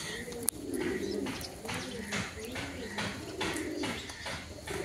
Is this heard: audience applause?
no